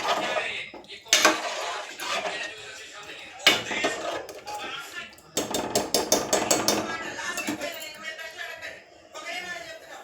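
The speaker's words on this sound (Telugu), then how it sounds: "మూత పెట్టేసుకుందాం." Metal lid set onto a pot of cooking vegetable sambar in a home kitchen, with several sharp clanks and rattles among softer kitchen clatter while someone talks.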